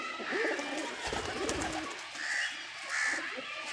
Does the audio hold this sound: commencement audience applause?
no